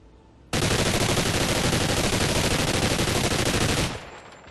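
Submachine gun hip fire in Call of Duty: Ghosts, one long unbroken burst of rapid automatic shots, loud and close, lasting over three seconds before cutting off to a faint ringing tail.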